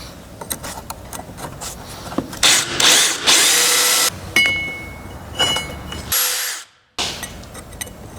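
A drill with a 1/4 inch bit runs in short bursts at a blacksmith's workshop, each whirring spurt of drilling separated by brief pauses and scattered clicks, loud and close, with one final burst ending abruptly.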